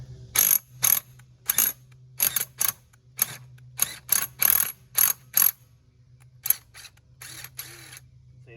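A ratchet clicks in short bursts while loosening wheel studs on a 1968 GTO, a dozen or so quick sharp runs of ratcheting, close and loud, separated by brief pauses over a faint steady hum.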